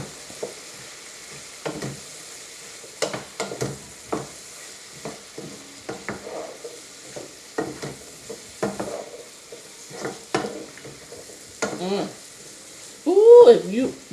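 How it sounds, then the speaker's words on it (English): Breakfast ingredients stirred in a sizzling frying pan on a stovetop, with scattered scraping and clinking strokes over a steady low sizzle, close and moderately loud, and a brief voice near the end. "let's start mixing all this stuff up"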